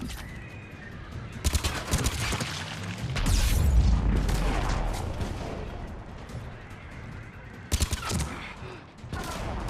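Assault rifle fire against a Ravager in Mass Effect 3, heard as bursts of shots and booms with heavier rumbling impacts midway, close and loud, a few sharp volleys returning near the end.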